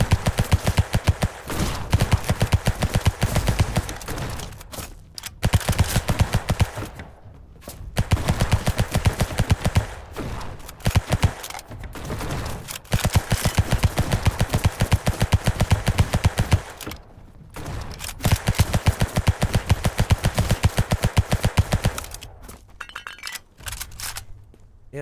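Rapid automatic rifle fire from a twisty rifle in the game Black Skylands comes in loud bursts of several seconds each, broken by brief pauses, close and dominant with no talk.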